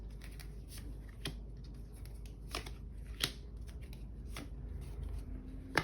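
A tarot deck is shuffled and cards are drawn, giving soft, close riffling broken by several sharp card snaps at a quiet level.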